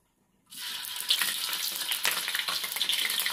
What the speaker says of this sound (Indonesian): Terus ini kita goreng deh.